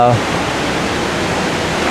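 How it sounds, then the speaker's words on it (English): A creek rushing steadily close by, a continuous broadband wash of flowing water that holds at one level for the whole stretch and stays loud behind the mic at an outdoor spot beside a service truck. "Hopefully the creek is not going to make this one horrible."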